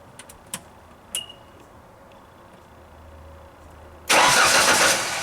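A Genie lift that won't start: several faint clicks, then about a second of loud engine cranking that carries on steadily to the end without catching.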